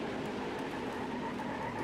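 A NASCAR Heat 5 race car brakes hard on the Watkins Glen road course, a dense continuous engine and tyre roar that stays loud and steady throughout, with no voices.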